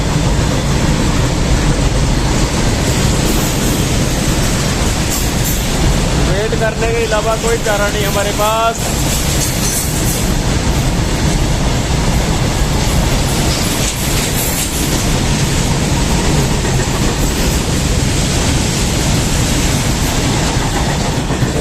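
A coal freight train rumbles and clatters steadily past nearby, with a brief squeal of wheels, while people talk over the noise.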